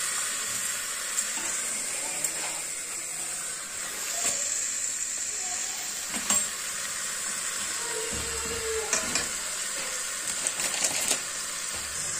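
Green peas cooking in a covered pan give off a constant soft hiss and sizzle, with scattered faint clicks and taps, steady and unbroken.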